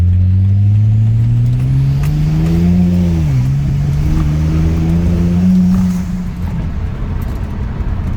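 A custom-built car engine revs hard and loud as the tyres break traction, a steady droning roar whose pitch climbs and dips, with a slight misfire in the running before it eases off near the end.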